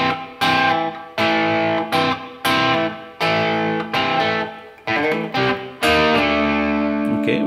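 A riff on distorted electric guitar, played slowly: a chain of separate, evenly spaced bursts of heavy, overdriven notes, loud and close with no talking.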